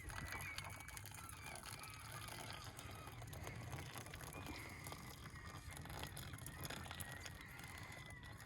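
Seabirds calling noisily over the sea during UK boat fishing, a continuous chorus of honking, squawking cries mixed with wind and boat noise, fairly distant and steady throughout.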